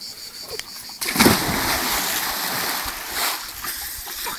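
A person belly-flops into water, landing with a sudden loud splash followed by a few seconds of churning, sloshing water close by.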